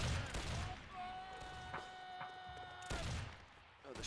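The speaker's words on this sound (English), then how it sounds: "Oh, they're shooting right over us." Musket volleys crackle in a Napoleonic Wars video game battle, with ragged bursts of firing that rise and fade under a sustained tonal hum, while players talk faintly over it.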